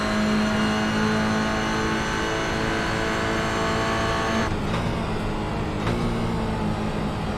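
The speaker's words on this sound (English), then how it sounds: "As we go back on board with the growl of the GR86." Onboard a Toyota GR86 race car lapping Silverstone, its engine growling steadily and loudly at high revs throughout, with gear-change dips and a brief lift around the middle before it pulls hard again.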